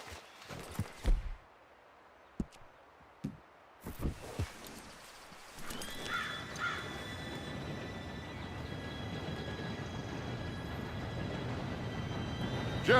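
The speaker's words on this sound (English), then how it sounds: "Train should be here any minute now." In the Red Dead Redemption 2 game world, a train approaches: sparse thuds and footsteps give way to a swelling rumble and clatter of rail cars with faint whistle-like tones, growing louder toward the end.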